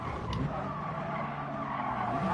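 Race car tires screech and skid under hard braking in the driving game Gran Turismo Sport, a loud sustained squeal over engine roar lasting a couple of seconds.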